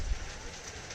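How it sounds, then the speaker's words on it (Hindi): Rain falling outdoors during an indoor crochet session, a faint, steady hiss of drops with no talk over it. "बारिश हो रही है तो हो सकता है आपको थोड़ी बारिश की आवाज़ आए"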